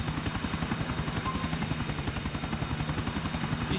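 Helicopter in Grand Theft Auto IV flying over a city park, a steady loud rotor thump with rapid regular blade chop and turbine whine throughout, no voices.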